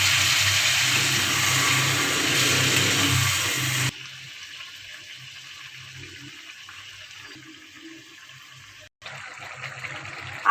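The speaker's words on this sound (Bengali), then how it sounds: "আর ফুলকপি আলুটা সেদ্ধ হওয়ার জন্য অল্প পরিমাণে জল দিয়ে দিচ্ছি" Water pours into a cooking pot of cauliflower and potatoes for a paneer and vegetable dish. A loud, rushing pour runs for about four seconds, then gives way to quieter kitchen sounds.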